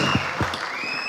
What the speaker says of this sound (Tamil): பெரிய கைத்தட்டல் கொடுத்தாங்க.